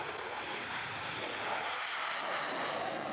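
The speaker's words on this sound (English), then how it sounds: "the first fast jet of the day, the Greek F-16 Zeus" Greek Air Force F-16 Block 52 fighter jet with external fuel tanks flies at an air show, a steady loud roaring jet-engine rush sustained throughout with no talk.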